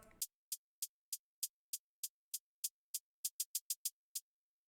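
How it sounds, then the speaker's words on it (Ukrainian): Soft hi-hats played solo in a melancholic beat: a steady run of short, crisp ticks that quickens into a brief roll near the end, quiet and alone. "І останній елемент рамки це хай-хети, вони досить м'які, звучать у соло вони ось так"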